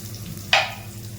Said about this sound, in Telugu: మనకు ఆనియన్స్ ఇలాగా వేసుకోవాలి ఇలా వేగాలి మొత్తం ఆనియన్స్